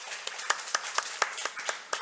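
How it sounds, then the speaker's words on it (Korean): Sparse, light clapping from a small church congregation giving encouraging applause to volunteer members at a Sunday morning service, a few distinct hand claps spaced irregularly over a couple of seconds, fairly quiet. "우리 격려 박수하겠습니다"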